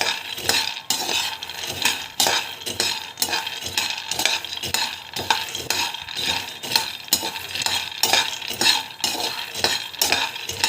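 Peanuts are stirred and dry-roasted in a pan. A utensil scrapes and rattles rhythmically and continuously against the metal, close and fairly loud, with no talking.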